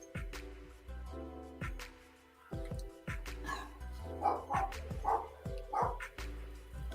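Dogs up a street bark in irregular bursts, several sharp yaps clustered in the latter half, over a quiet indoor room with a low tonal hum and no talk.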